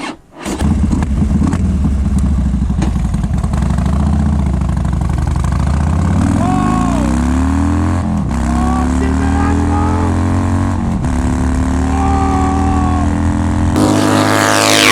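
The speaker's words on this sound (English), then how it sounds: "just cruise and just listen to the sound of these handmade upswept pipes that I made" A Harley motorcycle with handmade upswept straight pipes and no baffles cruises on a sunny day, its loud, close engine rumbling and rising and falling in pitch as it revs and shifts.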